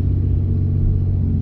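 A low, steady mechanical rumble with a droning hum, annoying steering noise from a RAM 2500/3500/4500/5500 heavy-duty truck heard up close, with no talk.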